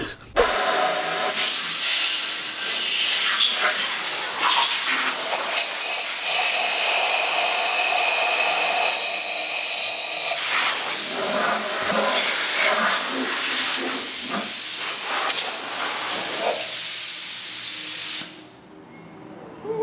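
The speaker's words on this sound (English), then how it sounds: "I attached the blower and I put it into the intake manifold" A blower forces air through a rusty big-block engine's intake manifold, giving a loud, close, continuous rushing hiss that holds for about eighteen seconds before cutting off abruptly.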